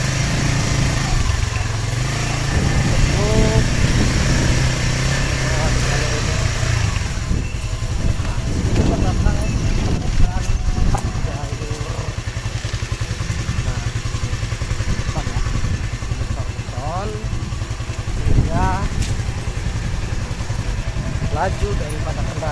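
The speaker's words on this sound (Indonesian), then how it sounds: "Laju daripada kendaraan roda 2 kita akan lancar, tidak terhambat oleh jalan yang rusak" A two-wheeled motorbike rides steadily along a smooth road toward a waterfall in Rajabasa, Lampung, its engine droning continuously up close with occasional revs, while a person talks over it throughout.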